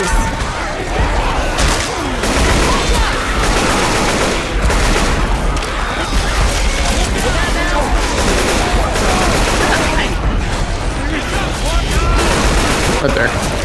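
Sustained gunfire in the zombie shooter game Left 4 Dead 2, dense rapid bursts of automatic fire crackling nonstop at high volume, with players shouting over the shots.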